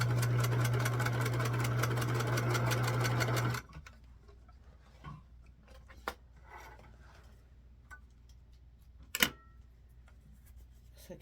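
A sewing machine stitches the seams of a four patch quilt in a steady, fast, even whir for about three and a half seconds, then stops, leaving quiet handling clicks and a few faint taps.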